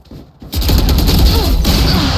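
Rapid Phantom rifle fire with the Reaver skin in the Valorant shooter, a dense burst starting after a short quiet lead-in and holding loud and steady to the end, close and punchy.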